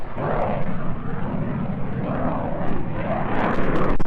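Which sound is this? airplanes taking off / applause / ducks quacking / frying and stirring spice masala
airplanes taking off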